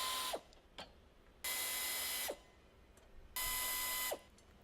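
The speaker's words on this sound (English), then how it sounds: "Use a 10mm socket to remove the extension rod to subframe bolts." A power tool drives a 10mm socket to remove bolts from a Ford Escape, three bursts of close, loud whirring with brief clicks between them.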